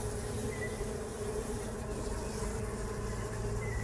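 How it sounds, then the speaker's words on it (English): A dense, steady buzzing hum of many honeybees fanning inside a hive during oxalic acid vapor treatment, close up, continuous and fairly loud throughout. "you'll hear the bees trying to fan to get this vapor out of their hive"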